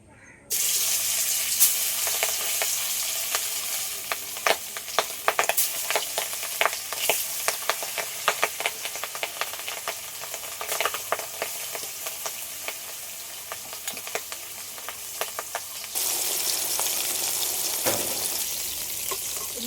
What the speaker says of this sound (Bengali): কড়াইতে তেল দিয়ে দিয়েছিলাম তেলটা গরম হয়ে গেছে এবার মাছটা ভেজে নেব